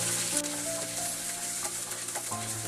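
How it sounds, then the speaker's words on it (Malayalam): Green chillies, curry leaves and garlic frying in oil for an instant mango pickle, a loud continuous sizzle and crackle close up, with a few stirring scrapes and no talking. "പച്ചമുളക്, കറിവേപ്പില, പിന്നെ വെളുത്തുള്ളി, ഇതെല്ലാം കൂടെ എണ്ണയിലിട്ട് നന്നായിട്ടൊന്ന് വാട്ടിയെടുക്കണം."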